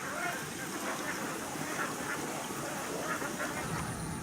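Ducks quacking in repeated short calls across Bali rice paddies, moderately close over a steady rural background hum.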